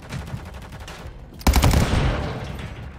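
Automatic gunfire in Call of Duty: Modern Warfare III, a quick rattling burst followed by a louder, heavier volley with a booming impact that rings out and fades.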